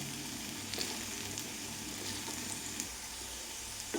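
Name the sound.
okra sizzling while frying in coconut oil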